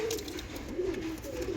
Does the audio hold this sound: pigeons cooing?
yes